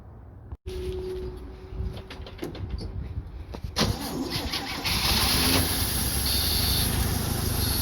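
An old engine left unused since the 1990s cranks and fails to catch, a steady churning that grows louder and denser partway through, with no voices.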